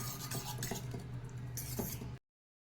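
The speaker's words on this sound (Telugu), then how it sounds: "ఈ మెంతులు వేసి మనం ఇలాగా వాటిని కలుపుకొని పక్కన ఉంచుకోవాలి" A spoon stirs fried fenugreek seeds into tamarind pulp in a bowl, giving a close run of soft scraping and small clinks that stops abruptly.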